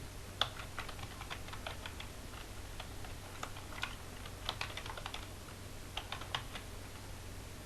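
Computer keys click quickly and irregularly at close range as an email address is typed, in short bursts with brief pauses, over a low steady hum.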